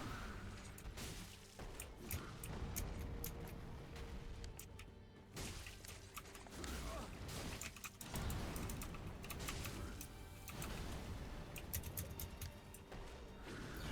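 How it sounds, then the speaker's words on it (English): A clicky mechanical computer keyboard clacks in rapid, dense bursts of keystrokes with brief pauses, close to the microphone over game audio. "I assume you can hear the clicky clack."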